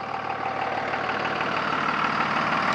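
A Cummins 24-valve ISB 5.9 diesel in a used pickup truck idles smoothly and steadily, a close, even mechanical rumble with no voices.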